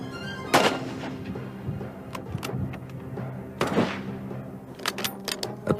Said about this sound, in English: In each series, he was able to fire the 3 shots in less than 6 seconds.